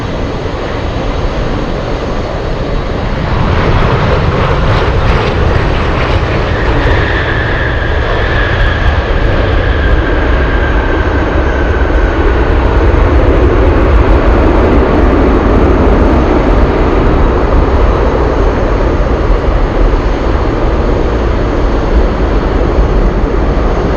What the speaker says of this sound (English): Let's go over to the one landing right now, and guess what? We have a 747 UPS.